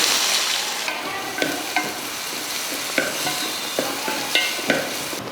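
Steady loud sizzling of onions frying in hot oil, with occasional scraping stirs in a pan, close up and without speech.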